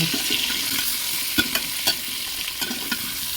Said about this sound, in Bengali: এঁচড়টাকে আরও খানিকক্ষণ ভেজে নেব।